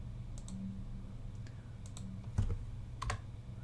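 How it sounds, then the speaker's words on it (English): A gaming keyboard typed on in a quiet room, giving a few scattered light clicks and two sharper key taps over a faint steady hum. "I've got a new keyboard, and it's a gaming keyboard"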